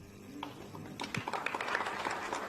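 An audience at a memorial lecture in a student center in Mbale gives faint, scattered claps that start sparse and build into a light, uneven patter in a large room.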